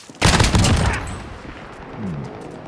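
Gunfire in the video game Call of Duty: Modern Warfare, a sharp burst of rapid shots at the start that trails off into quieter background game noise.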